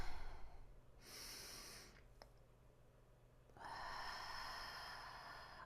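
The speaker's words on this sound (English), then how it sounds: "Breathing in through the nose." A person breathing in slowly through the nose during a guided breathing exercise: soft airy inhalation noise, with a quiet gap and then a longer, stronger intake, close and alone.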